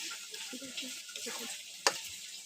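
Dried red chillies and bay leaves fry in white oil in a wok, giving a soft, steady sizzle with light crackles and one sharp tick near the end.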